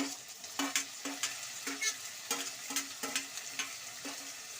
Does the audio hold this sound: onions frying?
yes